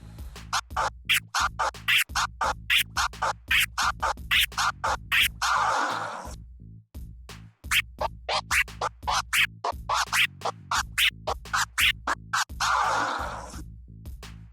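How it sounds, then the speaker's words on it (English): Original flare scratch looped on a turntable with a crossfader: rapid rhythmic chopped scratch bursts repeat in a steady pattern, loud and close, with brief sustained sample swipes between cycles and no talking. "we're going to try and keep a loop going of that scratch"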